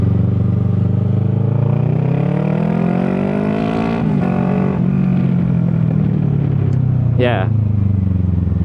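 A Kawasaki ER6 600cc two-cylinder motorcycle engine runs loudly throughout, its pitch rising then easing back, with someone talking over it.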